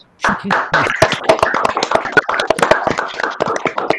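Audience clapping right after a countdown at a lecture, sharp distinct hand claps from a group bursting in after a brief silence and continuing loudly, with some voices mixed in.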